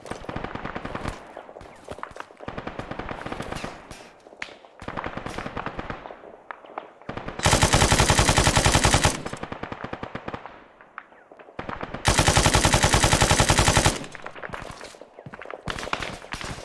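Video game gunfire in ArmA 3: repeated bursts of rapid automatic fire alternate with two longer, louder sustained barrages and brief gaps, all dense and close.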